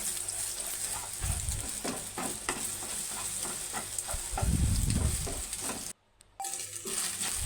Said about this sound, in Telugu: కొంచెం మనకి ఎగ్ బాగా ఫ్రై అయ్యాక పెద్ద పెద్ద పీసెస్ వచ్చేలాగా కలుపుకోవాలి